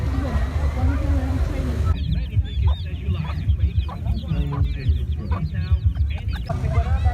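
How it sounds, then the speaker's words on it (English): Chickens cluck and squawk in short bursts amid a busy crowd, with people chattering nearby throughout. "All sorts of chickens. Ooh, get some chickens."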